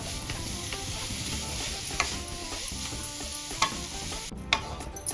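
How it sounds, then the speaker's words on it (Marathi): Khoa milk solids sautéed and stirred in a pan, a quiet continuous sizzle with scraping spoon strokes and a few sharper clicks of utensil on metal, close and with no voices. "खवा छान परतून घ्यायचा"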